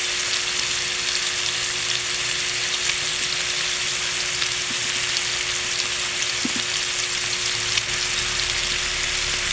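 Steady loud sizzling of pinakbet frying in a pan as okra goes in, a continuous crackle with a few soft clinks and a faint hum, no talking.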